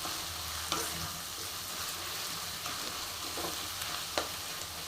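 Spice masala roasts in a pan, a steady dry sizzle with occasional sharp scrapes and taps of a spoon stirring against the pan, close and continuous with no talking.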